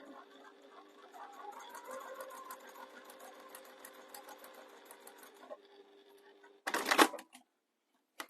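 A sewing machine stitches close along the edge of a bag, its steady motor whirring for about five seconds before a short, loud burst near the end. No one speaks.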